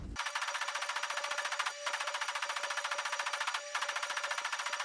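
Size 6 cannon in the Star Citizen video game firing at a ship hangar door, a rapid, steady stream of heavy shots in three long bursts separated by two brief pauses, loud and without talk.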